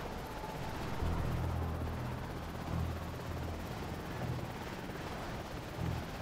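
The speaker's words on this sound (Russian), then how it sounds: "Финиш, вертолет застрял." A helicopter in the video game Prototype, downed and stuck, gives a steady whirring rotor roar with low periodic throbbing pulses. It is moderately loud and heard alone, with no talk.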